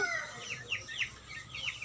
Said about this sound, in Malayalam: ഇതിൽ കുറച്ച് നാടൻ കോഴികൾ കുറച്ച് രണ്ട് ലഗോൺ കോഴി ഗിരിരാജ അങ്ങനെ ഒരു പത്തിരുപത്തഞ്ച് കോഴികളോളം ഉണ്ട്